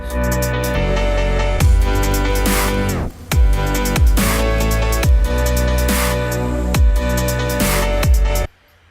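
A dubstep beat built in DJ TriCaster pounds along loud and alone, with heavy bass hits and a sharp high bang sample landing in a steady repeating pattern, a brief dropout near the middle, then cutting off at the end.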